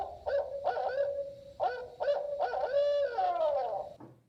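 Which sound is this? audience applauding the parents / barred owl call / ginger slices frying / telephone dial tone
barred owl call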